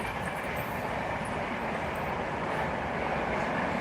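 A passing train gives a continuous broadband rumble and rush at a steady, moderate level with no clear breaks, heard alone without talk.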